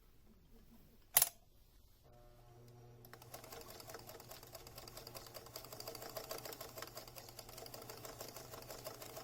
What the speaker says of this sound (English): So we stitch this down.